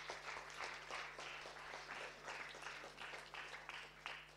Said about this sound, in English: a very big round of applause for all of those who have given questions and comments at this time